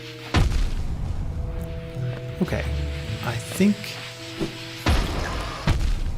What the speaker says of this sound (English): I think these explosions are doing 2 damage apiece to us